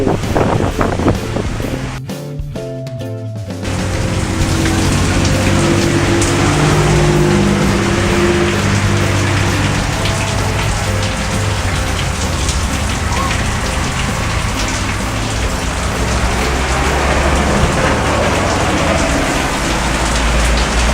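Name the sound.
heavy monsoon rain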